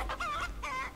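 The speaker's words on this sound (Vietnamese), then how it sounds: "có tiếng gà sinh tồn kìa" A chicken in a Roblox video game clucks in two quick, close, fairly loud bursts, with no talk over it.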